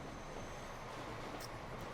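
Trains racing in the video game Transport Fever, a French and a German train among them: a faint, steady rumble of rolling rail wagons, continuous and even, with a brief high squeal near the end.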